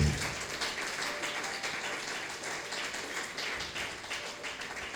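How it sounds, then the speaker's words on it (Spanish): A church congregation applauds during a service, a dense, steady patter of many hands clapping at moderate loudness from start to finish. "Fuerte el aplauso al Rey."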